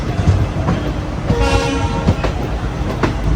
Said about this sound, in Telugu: మన పక్కన ఒక ట్రైన్ అయితే వెళ్తుంది కదా